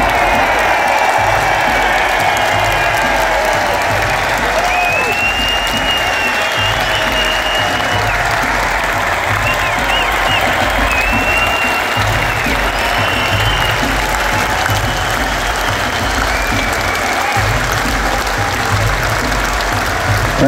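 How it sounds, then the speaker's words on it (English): A concert audience at a show in Dublin gives a long, loud, sustained round of applause with scattered cheers and whistles, a dense unbroken roar of clapping filling the arena. "I just want you to give a really special round of applause to every single member of our crew."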